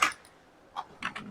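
Computer keyboard keys tapped during AutoCAD drafting, a short cluster of crisp clicks near the start and another burst about a second later, close and fairly quiet with no talking.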